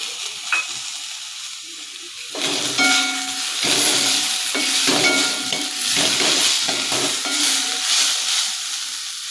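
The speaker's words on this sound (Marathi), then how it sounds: "टोमॅटो चांगले मऊ होईपर्यंत परतून घ्यायचा आहे" Chopped tomatoes sauté in a hot pan with grated coconut, a continuous close sizzle and hiss broken by repeated spatula stirs and scrapes against the metal, with no talking.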